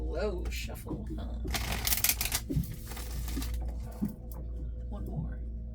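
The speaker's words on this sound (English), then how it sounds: "Ooh, a nice slow shuffle" Oracle cards are slowly shuffled by hand in close, crisp riffles and soft slides with a few pauses, while someone talks quietly over the papery rustling.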